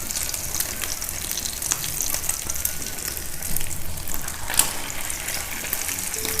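Aloo tikki potato cutlets fry in a pan of hot oil, giving a steady close sizzle and crackle with scattered sharper pops throughout.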